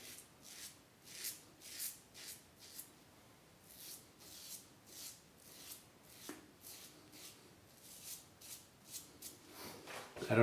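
A Parker semi slant safety razor scrapes against the grain on the neck in quiet, rhythmic strokes, each a faint close rasp repeating about every half second.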